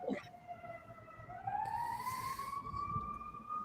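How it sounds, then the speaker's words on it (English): A siren in Detroit wails with a rising, sliding tone that sustains steadily, heard from a moderate distance over low background rumble. "Oh, there's a siren."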